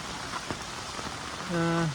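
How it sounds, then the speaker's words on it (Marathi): Heavy monsoon rain pours down in a Konkan village as a steady, close hiss, with a short tonal sound rising over it near the end. "तुफान पाऊस पडतोय तुफान पाऊस गावी"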